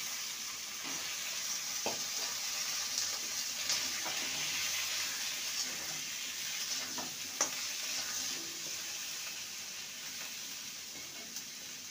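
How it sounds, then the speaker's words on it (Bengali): Potatoes and pointed gourd fry together in a pan, giving a steady, close sizzle with occasional stirring scrapes and clicks throughout, and no talking. "2 মিনিট পটলটাকে ভেজে নেব আলুর সাথে।"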